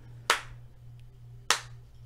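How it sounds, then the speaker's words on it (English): Two sharp hand claps from a single audience member at a podcast recording, spaced about a second apart, quiet and thin against a low steady hum, with no talking. "We expect you to clap, by the way, at some point during the recording of this podcast."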